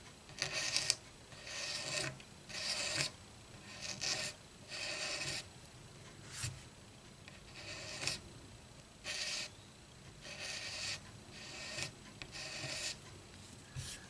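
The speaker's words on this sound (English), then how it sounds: "Now I'm going to scrape" Dried glue is scraped off a repaired broken peghead on a SIRE bass guitar, giving about ten close, steady rasping strokes in an even back-and-forth rhythm with short pauses between them and no talking.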